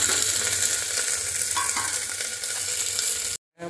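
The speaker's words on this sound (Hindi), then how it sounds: "हम कुकर में ही सब्जी बनाते हैं" Vegetable curry sizzling and frying inside a pressure cooker while being stirred, a loud, close, continuous crackling hiss that cuts off abruptly near the end.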